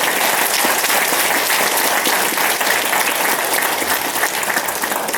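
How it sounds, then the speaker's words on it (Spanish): A large crowd at a graduation ceremony applauds loudly and continuously, a dense wash of clapping that holds steady without pause. "por favor un aplauso fuerte para ellos"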